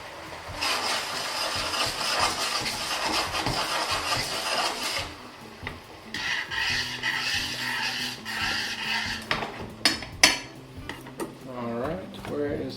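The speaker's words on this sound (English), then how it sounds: "Use your tongs, spread out your pasta." Metal tongs clink and scrape against a pot while spreading pasta for a tuna pasta dish, with irregular clatters and knocks close by and a sharper cluster of hits near the end.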